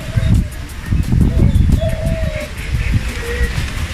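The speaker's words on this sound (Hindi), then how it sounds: "ये फाख्ता है" Doves cooing among a flock of white pigeons, soft low coos rising and falling under someone talking close by, with rustling and flutter from the birds around.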